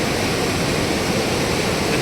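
The Modi River near Pokhara runs at full current, a constant, loud, even rushing roar of water with no pauses and no voices.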